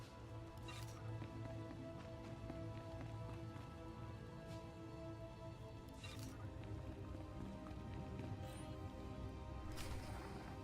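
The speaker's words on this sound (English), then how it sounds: "Hard to track them through the storm. Rain's wiped out the trail." Rainstorm in a video game: steady hiss of rain with patter and drip, occasional sharper splashes, alone with no talk over it.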